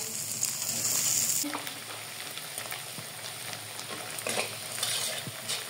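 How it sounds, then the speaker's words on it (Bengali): Chopped onion drops into hot oil in a pan for a bottle gourd and hilsa fish dish, setting off a loud, dense sizzle, with stirring scrapes and crackles continuing at close range. "তেল গরম হয়ে গেছে, পেঁয়াজ দিয়ে দেব কাঁচা জাল"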